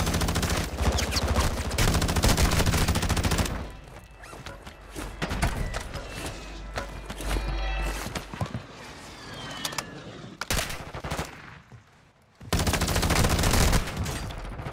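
Bursts of red dot sight gunfire in Warzone 2 combat, loud rapid shots at the start and end framing a quieter middle stretch with scattered distant shots.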